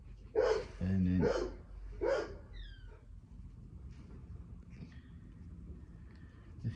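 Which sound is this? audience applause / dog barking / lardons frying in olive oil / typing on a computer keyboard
dog barking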